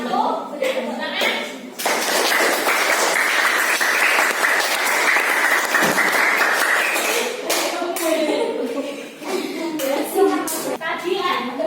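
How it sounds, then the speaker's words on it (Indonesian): A classroom of people claps together for several seconds, steady and fairly loud, with children's voices before and after. "Beri tepuk tangan."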